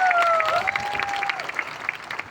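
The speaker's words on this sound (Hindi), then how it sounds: "सब लोग ताली मारो, आज ज्वाइन किया है।" A crowd at a Tipra Motha political party rally applauds steadily and loudly throughout, a dense wash of clapping with faint voices mixed in.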